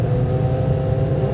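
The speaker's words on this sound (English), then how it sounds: "Riley Commons revs out, and it's go" A speedway sidecar racing outfit's engine revs hard at the start of a heat, a loud, steady, close-up droning roar with no break.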